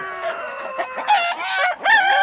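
Roosters kept together in a crowded backyard rooster run crow loudly and close, several long strained calls overlapping one another with clucking among them.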